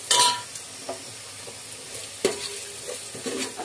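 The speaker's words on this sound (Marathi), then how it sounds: "आता एकदा परतून घेऊया चांगलं." A spatula scrapes and stirs chilli masala frying in a pan for crab curry, giving a soft, close sizzle broken by a few sharp scrapes and clinks over several seconds.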